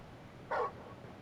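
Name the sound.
dog barking in Final Fantasy XVI video game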